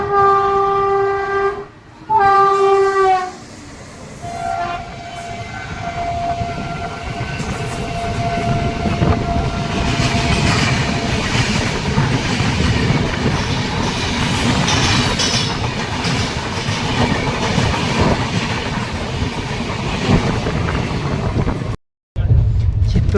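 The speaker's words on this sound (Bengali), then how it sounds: "WAG9 জোরদার হংকিংয়ের সাথে ছুটে আসছে।" A WAG9 electric locomotive hauling an express passenger train sounds loud, repeated horn blasts, then one long honk as it rushes past, leaving a steady roar and clatter of rolling wagons.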